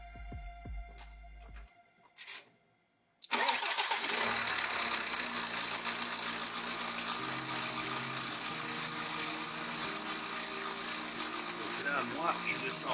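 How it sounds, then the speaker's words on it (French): A car engine cranks and catches after a brief silence, then runs steadily at idle, loud and close throughout, while checking for an exhaust leak into the cabin. "on va démarrer la voiture et on va voir s'il y a une fuite"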